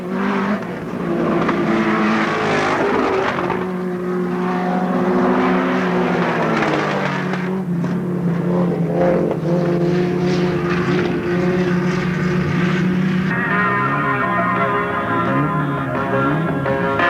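Hot rod race cars roar around an oval track, their engine notes rising and falling as they pass, with several cars heard at once and a clear pitch shift as each one goes by.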